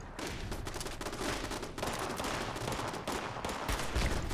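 Turret gunfire in Fallout 76: dense, continuous automatic shots rattle without pause at close range, loud and steady through the whole stretch with no voices.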